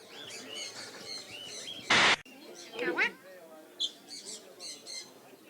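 Chirpy bird calls repeat through the stretch, with a bright squawk-like burst near the middle and later short tweets, all heard under steady people talking nearby.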